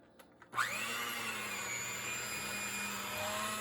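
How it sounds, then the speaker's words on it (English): An electric mixer whirs to life after a couple of soft knocks and runs at a steady high whine, beating cream cheese and sugar close by. "use a mixer"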